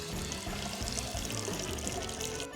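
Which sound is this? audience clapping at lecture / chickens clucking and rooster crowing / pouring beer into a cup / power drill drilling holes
pouring beer into a cup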